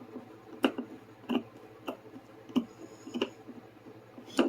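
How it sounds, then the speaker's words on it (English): Scissors snip slowly through fabric, making about seven crisp, close clicks spaced at a steady pace over a quiet room background. "I'll take this as far as I can with the scissors"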